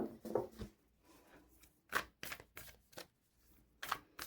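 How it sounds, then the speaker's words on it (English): Tarot cards pulled from a deck and handled, a few short papery shuffles and snaps spaced apart, quiet and close, with no talk. "let's pull your other 4 cards, which are right here"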